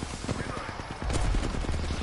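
Rapid bursts of gunfire from the video game Apex Legends crackle in quick repeated volleys, growing heavier and louder in the second half, with a player's voice speaking faintly underneath.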